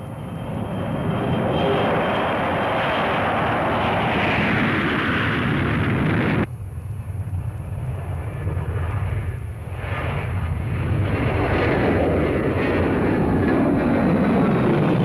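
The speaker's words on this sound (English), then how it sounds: "and the aircraft launched" Cold War Strategic Air Command bombers launching, a loud, continuous roar of jet engines that drops abruptly partway through and then swells again, with no talking.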